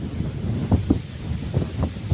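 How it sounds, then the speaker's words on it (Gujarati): Strong wind buffets the microphone in an open crop field, a steady roar broken by several louder gusts, with no voices. "પવન બહુ છે, જો"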